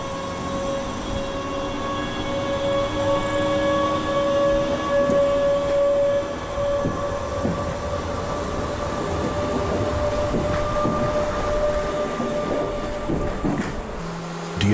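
A train on the Außerfern railway from Reutte toward Garmisch-Partenkirchen pulls away, a sustained mechanical hum with steady tonal whine and rumbling wheel and rail noise across about fifteen seconds, with a few clanks near the end.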